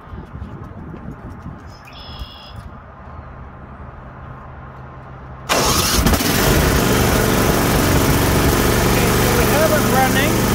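Quiet outdoor ambience with a brief bird chirp gives way to a snowblower engine abruptly catching and starting, then running loud and steady at a constant idle for several seconds.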